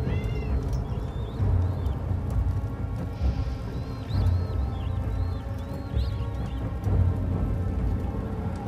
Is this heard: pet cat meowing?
yes